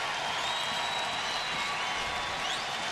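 Baseball stadium crowd at a Cleveland versus Seattle game roars and applauds, a steady, loud, wide wash of cheering and clapping filling the whole moment.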